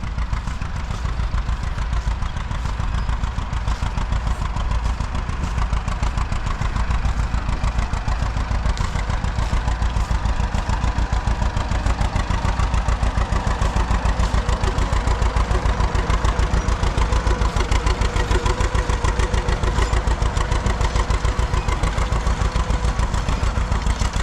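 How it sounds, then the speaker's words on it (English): A John Deere A tractor runs at a plow day, its engine chugging in a steady, rapid clatter of firing pulses that stays close and even throughout. "Well, it looks like we got Cody down here with his John Deere A."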